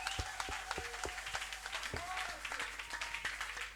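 A church congregation claps along in worship, steady rhythmic hand claps close by with crowd noise and some voices mixed in, brief and fairly quiet.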